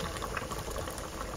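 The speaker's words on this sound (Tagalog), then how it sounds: "Pinakulong ko na itong tubig." Water boils in a pot for sinigang, salmon-head soup, with a steady close bubbling and seething rush that stays even throughout.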